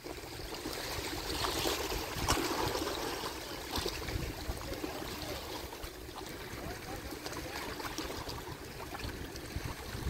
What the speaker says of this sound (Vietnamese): Nghe ầm ầm đó là sóng biển đập vào bờ đó các bạn.